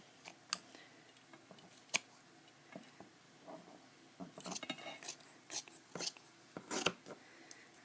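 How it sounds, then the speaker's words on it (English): Scissors cutting through two layers of thick wool sweater knit, close and quiet: scattered soft snips and crunches, sparse at first, then quicker and denser toward the end. "this wool is kind of thick, so I'm just going to cut 2 layers at a time"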